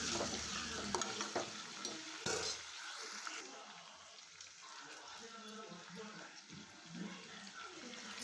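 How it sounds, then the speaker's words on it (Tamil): Chopped onions fry in a pan with a soft, steady sizzle and occasional stirring, faint and continuous throughout. "நல்லா ஃப்ரை பண்ணி விட்டுக்கலாங்க"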